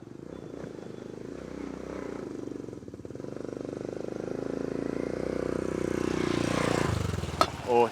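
A small postie motorbike engine runs close by with a steady, buzzing drone that builds slightly in intensity before a brief sharper burst near the end.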